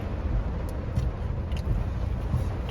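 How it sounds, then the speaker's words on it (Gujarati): Mumbai city traffic heard from inside a moving car: a steady low road rumble and wind buffeting with faint distant vehicle sounds. "ટ્રાફિક તો જો 7 વાગ્યાના મુંબઈમાં જ રોકડીએ આપણે"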